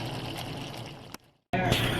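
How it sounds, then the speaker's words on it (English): A can of tomatoes pours into a cooking pot of spaghetti sauce with bison meat in a wet, sloshing rush that stops abruptly, falls briefly silent, then resumes loudly. "I'm going to add one more can of that tomatoes"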